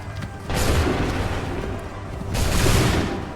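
Musket volley in Assassin's Creed 3: two broad, loud bursts of massed gunfire with a rumbling tail, about two seconds apart, with no voices over them.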